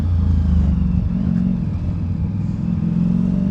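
A Ducati Diavel V4 motorcycle rides at low speed on brand new tires, its engine giving a steady, loud mid-frequency drone with constant wind rumble and no one talking.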